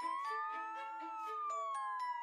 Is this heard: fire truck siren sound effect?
yes